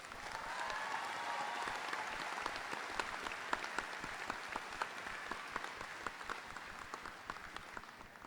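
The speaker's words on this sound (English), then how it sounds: "So let's hear a round of applause for that." An audience at a Flagler College graduation ceremony applauds steadily, a sustained wash of many hands clapping, heard at a moderate distance throughout.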